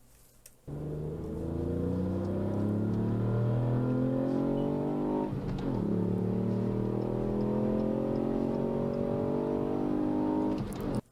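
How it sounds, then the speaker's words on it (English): A 3-cylinder car engine starts with a deep, low note, then accelerates through two rising pulls separated by a brief dip, the harmonic tone climbing steadily before cutting off near the end. "the very deep, low starting note of a 3-cylinder"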